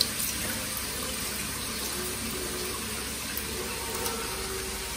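Tap water runs steadily into a kitchen sink while rice is washed, a continuous broadband splash and rush at moderate level with no voices over it.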